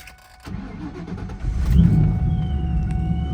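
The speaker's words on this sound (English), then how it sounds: "right upon fire up, you can hear that Pro Charger whistling" Car with a ProCharger supercharger firing up: a brief crank, then the engine catching into a steady, low idle with a faint thin whine riding above it, close by and with no talk.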